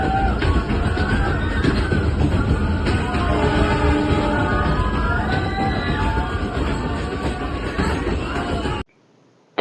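A passenger train on the Goa route rumbles along the rails with steady rolling clatter and squealing wheel tones, loud and close, ending abruptly in near silence.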